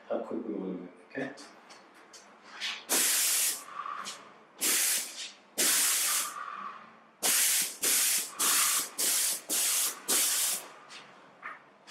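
An airless paint sprayer coats a room corner with paint in a series of loud, hissing bursts of a second or so each, separated by short pauses, with a voice talking in the gaps between bursts.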